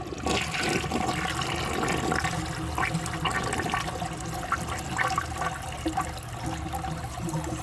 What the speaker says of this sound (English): I'm gonna wait for that to fill up and give it another flush.